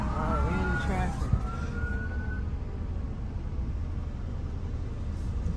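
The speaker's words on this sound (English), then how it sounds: "Fire trucks are in traffic." A fire truck siren wails in heavy traffic with rising and falling tones, fading under the steady rumble of a car interior and road noise.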